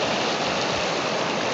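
A mountain stream of running water rushes steadily, a dense broadband roar close by with no break and no voices.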